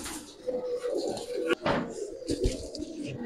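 A cream-eyed Giribaz pigeon coos in repeated, rolling phrases close by, over a busy background with a sharp knock partway through.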